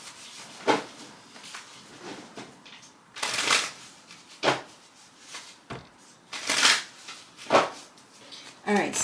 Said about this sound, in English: we're going to do a quick shuffle here